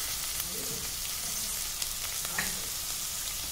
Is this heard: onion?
yes